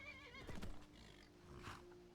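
Shadowmere, the black horse in Skyrim, gives a single loud whinny with a snorting breath partway through, close and clear over quiet game ambience.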